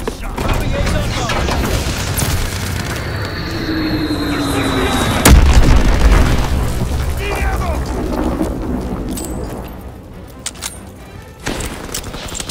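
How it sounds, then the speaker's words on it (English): Call of Duty WWII recon bombing run: heavy rolling booms and rumbling blasts with overlapping gunfire, a sharp loud crack midway, continuous battle noise and a brief game voice. "Recon bombing mission ready."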